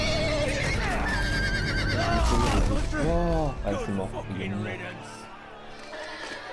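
Horse whinnying in a Game of Thrones video game, a wavering neigh rising and falling over layered game music and effects, with someone talking in French and in-game English dialogue alongside.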